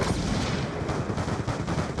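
Rapid bursts of gunfire from a video game crackle in dense succession, loud and close, forming an almost continuous volley over a couple of seconds.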